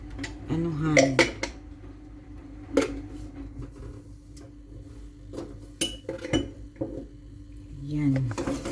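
Pots, dishes and cutlery clatter and clink intermittently in a home kitchen sink during washing up, with faint talk in the background.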